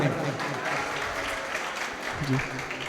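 Applause and a rumble of clapping from the audience at a mushaira in Babhali, Daryapur, sustained and fairly dense, with voices mixed in throughout.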